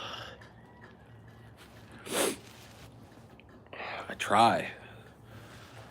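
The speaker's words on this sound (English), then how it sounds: "I got them sniffles" Two sharp sniffs through the nose, separated by quiet, with a soft murmured voice nearby.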